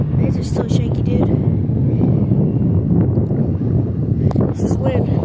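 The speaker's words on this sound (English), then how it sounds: "This is wind." Wind buffets the microphone outdoors at an airport in Wilmington, North Carolina, a loud, continuous low rumble with gusty swells, and a person talks over it.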